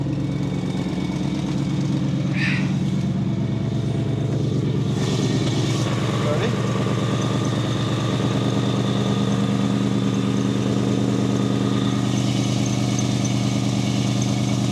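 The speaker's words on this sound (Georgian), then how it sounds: "მაყუჩი შეერთებული არ არის, მაგით ვაქ ეხლა დიდი ხმა" A BMW M8 engine running with its muffler disconnected gives a loud, steady, deep drone throughout, with brief voices at moments.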